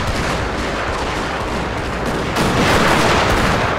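Four Gatling guns fire in the Fall of the Samurai era of the game Total War: Shogun 2, meeting 1,800 Ming militia archers. The gunfire forms a dense, continuous rattle that swells louder near the end. No one talks over it.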